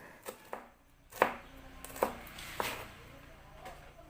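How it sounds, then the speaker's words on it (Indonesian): A large red chili sliced diagonally with a knife on a cutting board, several crisp, separate chops spaced irregularly over a quiet kitchen background, close and moderately loud. "1 biji cabai merah besar diiris serong."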